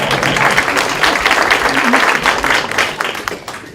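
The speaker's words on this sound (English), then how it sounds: "I think you need a round of applause." An audience at a county library program applauds steadily, a dense crowd clapping loud and close throughout, with a voice faintly audible under it.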